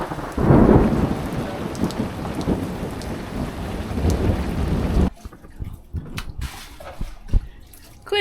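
Heavy rain pours on a boat with a deep rumble of thunder rolling through, then cuts to a quieter patter of drops on a surface.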